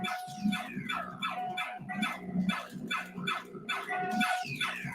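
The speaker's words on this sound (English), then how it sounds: "It makes a barking sound when you hit the fire button." A string of bright, synthetic-sounding barks repeats steadily, each yap short and tinny, like an electronic toy dog.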